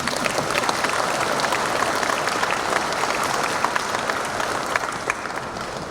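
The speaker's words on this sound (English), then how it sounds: "I expect you to clap." Sustained applause from a conference audience at a stakeholders' conclave, dense steady clapping filling the hall throughout with a faint murmur of voices underneath.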